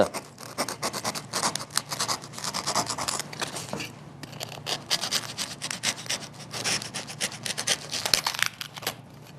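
Hand sawing through wood for carving a duck up close, quick rasping back-and-forth strokes in a steady rhythm with a brief pause partway.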